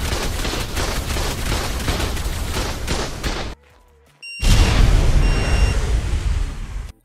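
Turrets and a tech rifle firing in ARK, a loud dense barrage of rapid shots and impacts, broken by a short near-silent gap before the heavy fire resumes just as intensely.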